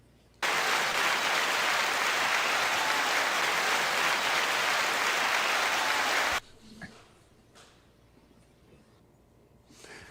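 Loud, steady applause from a live audience at a community talk show event, dense and unbroken for about six seconds before cutting off abruptly into quiet room tone.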